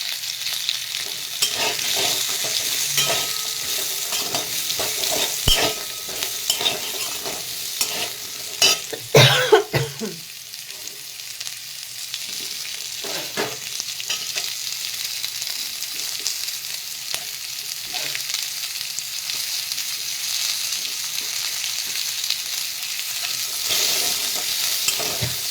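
Paneer cubes fry over a high flame for chilli paneer, the hot oil hissing in a steady, close sizzle broken by scraping stirs and occasional clatter of a spatula against the pan.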